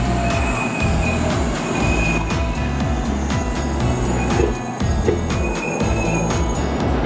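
A local train on the Obama Line pulls into a station on a hot day, its wheels clattering over rail joints in a steady rhythm with squealing metal, loud and close, with no one speaking.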